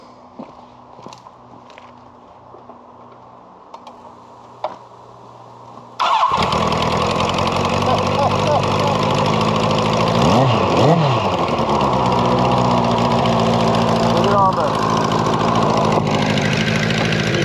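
After a few faint taps and clicks, the engine of a 1983 Kawasaki GPZ1100 motorcycle, long stored outdoors, fires up and runs loudly and steadily, a rough mechanical drone with a brief rising rev partway through.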